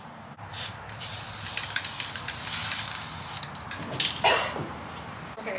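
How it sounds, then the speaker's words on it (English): A can of spray paint hisses out in a series of short and longer bursts of broadband spraying, close and fairly loud, with brief pauses between them. "Smells like spray paint."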